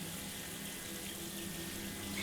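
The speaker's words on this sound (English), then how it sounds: "Are you in the shower again?" Water from a shower runs in a steady, even hiss, a continuous rushing spray at moderate distance with no pauses.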